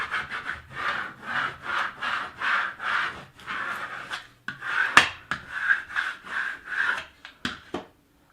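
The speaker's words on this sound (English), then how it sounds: "And then we're going to scrape down." A scraper is dragged repeatedly across transfer tape on a large Cricut stencil, producing rhythmic, close, raspy scratching strokes in a steady series, with a few sharper, quicker scrapes toward the end.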